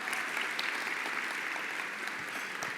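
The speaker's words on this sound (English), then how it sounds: "Round of applause," Guests at a philanthropy awards gathering applaud the judging committee, a brief, steady wash of clapping heard from a distance in a large room.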